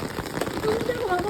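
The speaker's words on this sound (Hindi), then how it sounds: "छाता फाड़ के बारिश निकल रही है इतनी तेज हो रही है।" Heavy rain pours down in a steady, dense hiss, close and continuous, with a voice talking over it.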